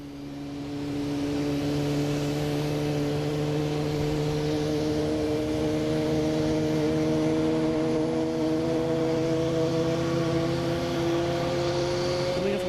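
Alaska Airlines jet airliner taxiing at Boston Logan airport, a steady loud engine drone with sustained tonal whine layers that slowly rise in pitch, continuous throughout with no talk.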